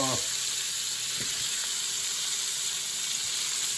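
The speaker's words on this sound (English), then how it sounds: "Onions, fresh mushrooms, garlic, and red and orange peppers. And we're going to cook that up" Onions, fresh mushrooms, garlic and red and orange peppers sizzle steadily in a hot, flavored pan, a close, continuous bright hiss with a few soft stirring clicks and no voices.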